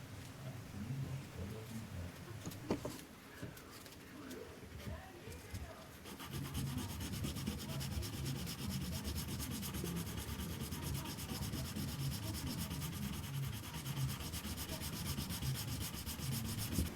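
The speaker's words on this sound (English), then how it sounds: "So that's these frets sanded up to 2000 grit." Fine-grit sandpaper rubs over guitar frets in close, rhythmic back-and-forth strokes that become a steady, continuous sanding hiss partway through, fairly quiet with no talking.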